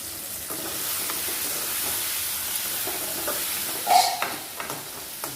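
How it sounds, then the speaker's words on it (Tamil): Tomatoes and onions fry together in a pan for boiled egg thokku, a constant close hiss of sizzling with soft stirring scrapes and a brief louder clatter near the end. "தக்காளி கொஞ்சம் வதங்கட்டும்"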